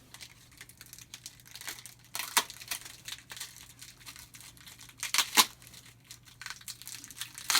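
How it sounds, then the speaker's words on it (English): Tape is pulled off the roll and wrapped around the grip of a foam short sword, making irregular crinkling rips and tearing bursts, loud and close, between quieter stretches of handling. "We're going to take that said tape. We're going to tape it down around."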